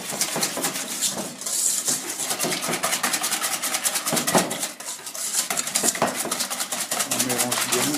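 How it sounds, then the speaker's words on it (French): Eggs and sugar being whisked by hand in a bowl, a steady rapid clatter of the whisk against the bowl that runs continuously without a break. "On mélange bien pour blanchir les œufs"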